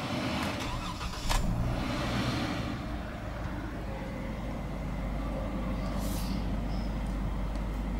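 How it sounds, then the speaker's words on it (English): A 2012 Jeep Wrangler Rubicon two-door engine turns over and settles into a steady, close, rumbling idle with a low continuous drone and a brief hiss near the start. "now let's go ahead and start the engine"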